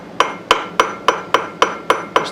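Eight sharp, evenly spaced metallic taps ring out close by as a tool knocks flux off a valve part from an 11 HP Briggs engine during a valve job, each strike decaying quickly before the next.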